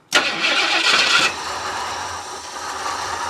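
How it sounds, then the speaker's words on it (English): A 1976 Ford F250 crew cab truck, abandoned for twenty years, cranks and fires up with a loud burst, then settles quickly into a steady rough idle. "we give it a little bit of gas, and we take our trigger and start it. It should start."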